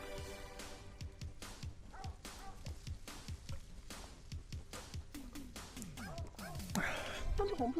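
Small dog barking in an indie horror video game, a run of quick barks and yips with a whimpering edge repeating through the stretch, set against game music and someone talking over it.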